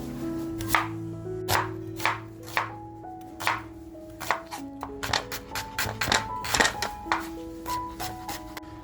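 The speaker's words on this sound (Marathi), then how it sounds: "अगोदर आपण आहे ना कांदा कापून घेऊया." An onion being chopped with a knife on a board for a Surmai fish masala, a steady series of crisp, close knocks of the blade, irregular in spacing and quickening toward the middle, with no talking.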